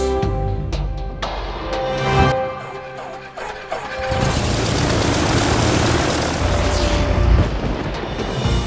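Aircraft engines rumble and roar nearby, a low steady drone swelling into a loud, broad rushing roar that holds for several seconds.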